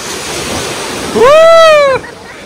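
Sea waves wash up on Pirwadi beach in a steady rushing surge under wind noise, with a brief tonal cry rising over the surf near the end.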